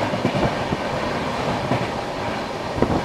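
Onboard the Rajdhani Express, a steady loud roar of rolling wheels and carriage rattle with scattered clacks as it crosses the Amrit Bharat Express train alongside.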